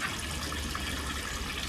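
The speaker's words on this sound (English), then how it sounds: "a hole in the hose is providing a nice soak into the young celery" Water spraying and hissing steadily from a hole in a garden hose, soaking a bed of young celery inside a polytunnel; a continuous close, even rush with no voices.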